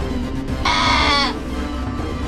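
A sheep bleats once in a short, bright, quavering cry over a low background murmur, as a wolf grabs it from its pen.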